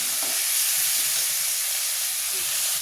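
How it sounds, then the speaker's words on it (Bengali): Steady, loud sizzling hiss of frying in a pan before dalia is added, a continuous bright crackle with faint stirring underneath and no pauses. "তখন ভাজা হয়নি, একটু ভালো করে ভেজে নিই।"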